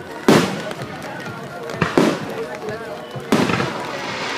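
Fireworks bursting at a 4th of July display, three loud booming blasts each trailing into crackle, with excited voices exclaiming in between.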